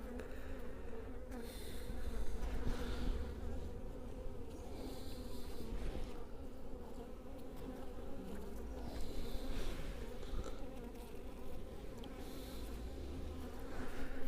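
Honey bees swarm and buzz around an opened styrofoam hive, a dense, steady hum close by with individual insects droning past now and then.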